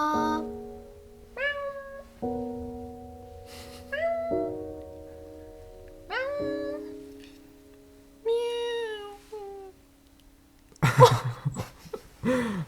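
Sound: cat meowing

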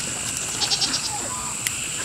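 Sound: goats bleating in their new pen

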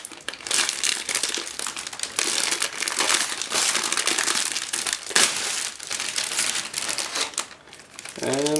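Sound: opening a plastic bag

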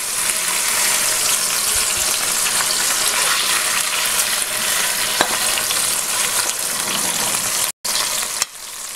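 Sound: chicken searing in a pan

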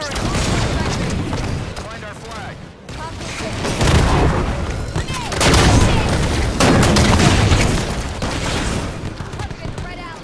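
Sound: Incinerator cannon firing in the video game Halo 5 Guardians

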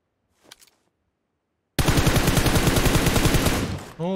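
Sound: gunfire in the video game PUBG Mobile

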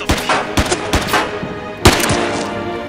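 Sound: revolver gunshots in a film

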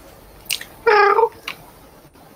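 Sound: person imitating a cat meowing

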